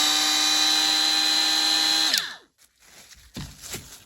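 Milwaukee 2485-20 right angle die grinder running at speed setting 3, around 15,000 RPM, a steady high-pitched whine held for two seconds that winds down as it shuts off, followed by faint handling clatter.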